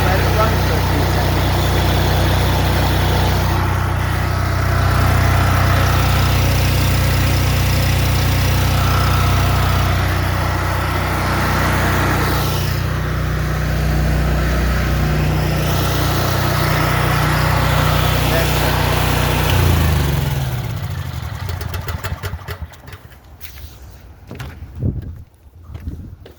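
A small generator engine idles steadily, loud and close, then sputters and dies out as it runs out of fuel after the fuel valve is shut off, with someone talking over it.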